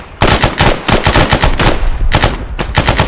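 Video game gunfire comes as loud, close bursts of rapid automatic shots with several overlapping weapons and short gaps between volleys.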